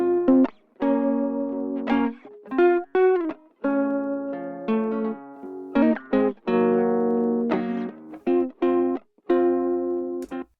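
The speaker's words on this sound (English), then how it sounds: "if we put that into stereo mode, then it becomes this widener, kind of chorus widening sound." Synth notes processed through a stereo chorus widener effect in Logic Pro, a rhythmic sequence of short and sustained pitched tones with a shimmering, widened character, played alone.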